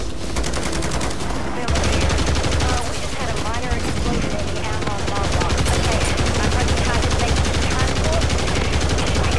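Rapid automatic gunfire in the Call of Duty MWZ video game, dense continuous bursts of shots with a low rumble beneath, loud throughout, with a voice talking briefly in the mix.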